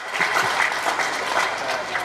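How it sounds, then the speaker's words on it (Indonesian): An audience at a mosque gathering with takmir members at Masjid Raya Al Falah in Sragen claps in a steady, moderately loud round of applause that lasts about two seconds. No one speaks over it. "Tepuk tangan untuk kita semua."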